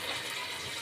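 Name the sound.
pouring a glass of water into chicken potato korma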